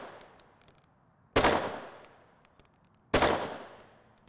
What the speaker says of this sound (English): I'm gonna fire three rounds.